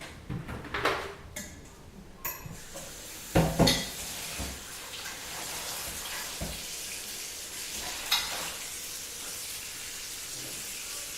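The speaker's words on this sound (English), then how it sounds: "while my faucet is filling up that container for water" Steady water streaming from a tap into a container, with clanks of dishes and utensils knocking now and then; no talking.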